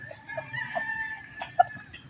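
A rooster crows faintly at some distance, with soft clucking and a brief sharper call near the end, in an otherwise quiet yard.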